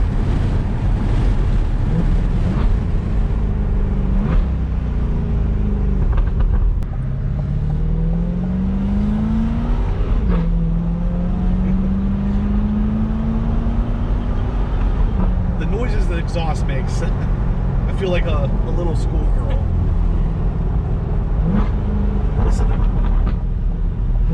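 A C8 Corvette fitted with an aftermarket exhaust drones loudly while accelerating, its engine note climbing through gears with shifts and rising pitch over cabin and wind noise, and someone talks throughout.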